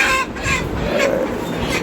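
Layer pullet hens, seven birds in a cage, clucking and murmuring close by in a steady, busy stream with a few brighter calls, no talk over them.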